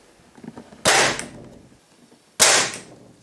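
A homemade electromagnetic coil rail gun firing at 450 volts: a sharp loud crack-like snap followed by a short decaying rattle, then a second identical shot about a second and a half later, close and alone.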